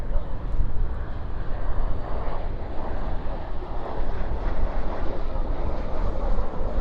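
An Alaska Airlines airplane at DFW airport at night gives a continuous broad engine roar with wind buffeting, loud and steady throughout.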